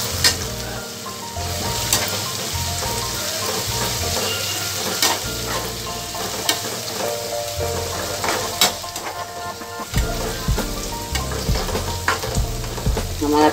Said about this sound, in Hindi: ये 1 चम्मच पेस्ट है, इसको भी अच्छे से भून लेंगे।